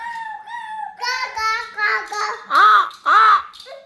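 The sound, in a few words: child imitating a crow cawing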